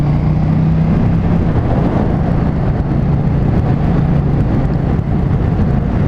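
A KTM Duke 790 motorcycle accelerates hard on an open road, its engine droning loud and steady throughout with a low rumbling tone and rising pitch.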